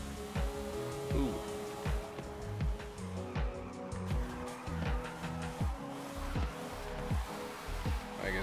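A Mercedes E55 wagon drifts in Forza Horizon 5, its engine droning steadily as repeated tire squeals and skids rise and fall, loud and continuous through the whole stretch, with a voice talking underneath.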